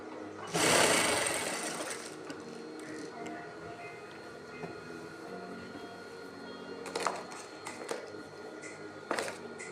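Sewing machine stitching a fall onto a saree edge with matching thread, a loud burst of rapid mechanical whirring near the start, then lighter intermittent clicks and short stitching bursts over a steady background.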